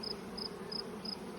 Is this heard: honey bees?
yes